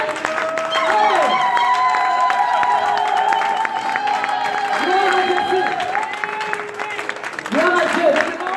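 Church congregation applauding and cheering during a French-language sermon, a steady wash of clapping and crowd noise sustained throughout with a preacher's voice and musical tones running over it.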